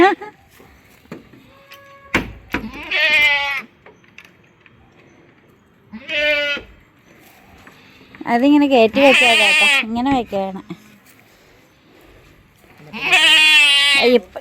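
A goat bleats loudly several times at close range, long wavering cries between stretches of people talking.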